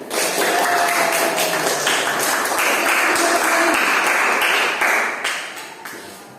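A classroom audience claps for a student group that has just presented its lab results, a dense, loud wave of applause that holds steady and then tapers off near the end.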